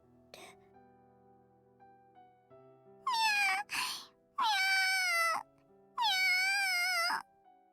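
A kitten in a video game gives three long, loud meows one after another, each a drawn-out wail after a brief earlier squeak, with quiet game sounds underneath.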